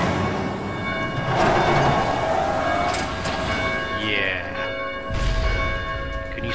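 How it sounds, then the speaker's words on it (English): Church bells ring in the zombie game Dead Island, tolling over a dense, droning ambient background with a faint voice present. "The ringing the bells is not a good idea."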